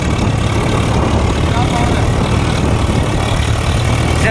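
Close, loud low rumble of a tractor engine, a Swaraj 733 FE or Eicher 485, hauling a fully loaded trolley, steady and unbroken with heavy bass throb throughout.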